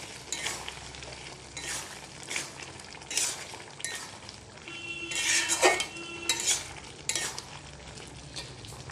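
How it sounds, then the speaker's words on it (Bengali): Peas and boiled potatoes are stirred in a hot pan with a metal spoon, making repeated close scrapes and clinks over a soft sizzle. "এবার মটরশুঁটিগুলো নিয়ে নাড়াচাড়া করে নিয়ে এবার আলু সিদ্ধটা দিয়ে দেব।"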